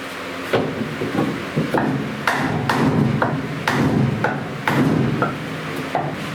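Repeated sharp knocks of a hammer striking a wooden block against a truck door, irregularly spaced, close and fairly loud, about ten hits.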